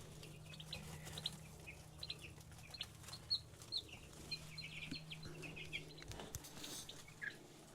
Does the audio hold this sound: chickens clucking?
yes